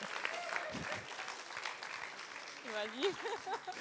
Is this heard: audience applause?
yes